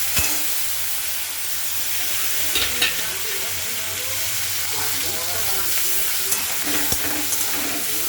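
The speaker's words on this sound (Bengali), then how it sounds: "পেঁয়াজটা একটু লাল করে ভাজবো" Onions and garlic frying in a kadai, a loud, dense, continuous sizzle with occasional stirring scrapes and faint background sound throughout.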